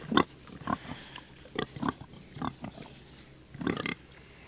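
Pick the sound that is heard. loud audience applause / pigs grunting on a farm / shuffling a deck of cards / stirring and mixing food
pigs grunting on a farm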